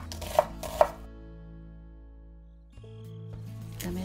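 A knife chops onion on a cutting board while making tofu gangdoenjang: two crisp, close strikes, a quiet pause, then a few more chops near the end.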